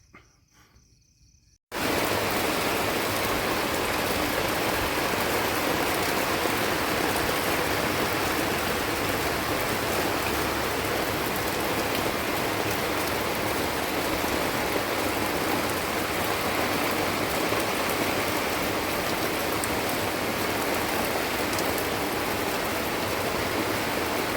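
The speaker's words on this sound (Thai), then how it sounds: "ฝนตกครับเปียกเละไปหมดเลยครับ" Heavy rain pours down steadily at the Khao Kho wind turbine fields, a loud unbroken hiss that starts abruptly after a brief quiet moment and continues without pause.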